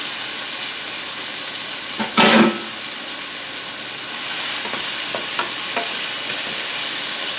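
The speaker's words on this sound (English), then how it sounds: "Saute that up till the onions start to get a little translucent." Onion and garlic sautéing in olive oil in a pan give a steady, close sizzle, with a louder scraping stir partway through and lighter stirring clicks afterward; no talking.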